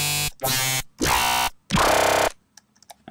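A growl bass preset from Native Instruments Massive plays four loud, buzzing synth notes with pauses between them, followed by a few faint blips.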